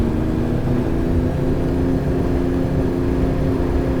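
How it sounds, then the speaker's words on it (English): A diesel locomotive engine in a train driving video game holds a loud, steady droning hum at full power, with a constant low rumble and no talking. "It does take a while for the diesel engine to respond."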